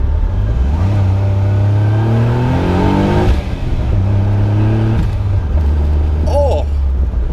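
A Caterham Seven 160S with a turbocharged 660cc three-cylinder engine revs loudly up and down through a downshift, its tone sweeping up, dropping and climbing again, close and continuous, with a brief high chirp near the end.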